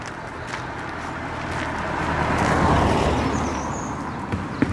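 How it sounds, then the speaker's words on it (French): A car approaches along a road through a town, its engine and tyre roar rising gradually to a peak and then easing slightly, alone with no talk over it. "Ah, une voiture arrive."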